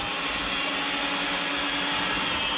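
An electric kitchen mixer whirs continuously and loudly as it beats batter, a steady high-pitched motor whine with no pauses and no voices over it.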